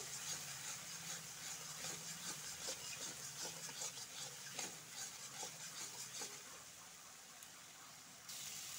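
A steady sizzle of spice paste frying in a pan, with soft scraping stirs at irregular intervals, fairly quiet and with no talking.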